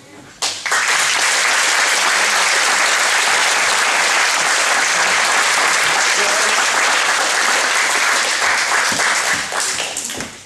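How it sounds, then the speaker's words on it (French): Loud, sustained applause from a crowd at a judo club celebration for its educators, teachers and staff, starting abruptly and holding dense and even for about ten seconds before fading slightly at the end. "je voudrais qu'on applaudisse tous ces éducateurs, tous ces profs, les membres de l'encadrement"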